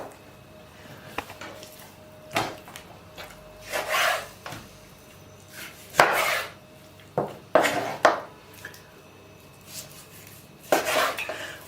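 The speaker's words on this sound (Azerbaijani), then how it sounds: "Deməli dostlar, birinci növbədə ətimizi başlayırıq doğramağa." Meat for Baku-style turşu qovurma is cut into pieces on a board, making scattered knife thuds, scrapes and clinks of metal and dishes at irregular intervals in a quiet kitchen.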